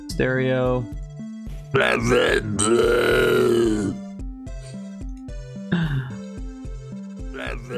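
Short synthesized retro handheld-game blips and tones step up and down in pitch, mixed with gurgling, groaning vocal noises like a fish expiring, close and fairly loud.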